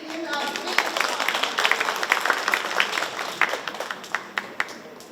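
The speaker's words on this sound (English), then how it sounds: "let's give him a big applause" Audience clapping at an insurance group's annual event, a steady wash of many hands with sharp individual claps standing out, fairly close and continuous throughout, with some murmuring voices underneath.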